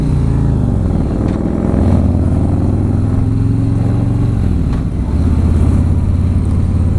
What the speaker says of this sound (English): I am barely touching the throttle, and this thing is just leaping.